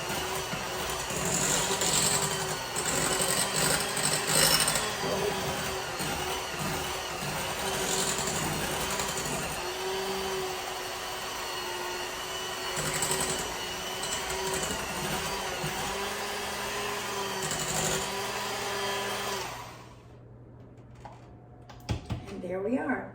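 An electric mixer blends egg whites with cocoa, a steady mechanical whir running for about twenty seconds before it stops and only faint handling noises remain.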